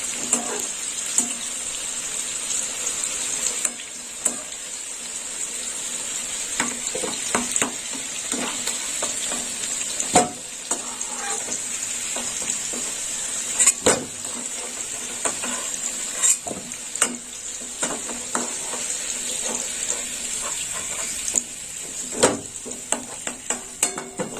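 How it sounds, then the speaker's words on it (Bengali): Potato pieces fry in hot oil in a pan for a prawn and pointed gourd dish. A loud, steady sizzle runs throughout, with frequent stirring scrapes and clinks. No one speaks. "আলুটা ঠিক এইরকম লাল লাল ভাজা হবে"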